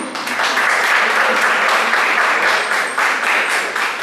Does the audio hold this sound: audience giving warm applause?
yes